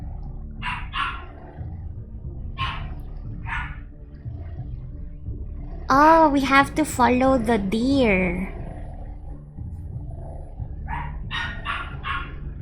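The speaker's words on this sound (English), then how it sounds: "Yes, the doggo is barking." A small dog barks in a few short yapping bursts, then a louder, more excited flurry of barks and growls in the middle, while a person talks over it throughout.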